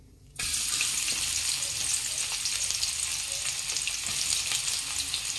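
Sliced onions frying in a couple of spoons of hot oil in a pan, heard as a loud, steady crackling sizzle that starts abruptly and runs on unbroken at close range.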